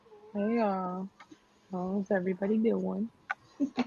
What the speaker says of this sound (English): if you hear my cat meowing in the background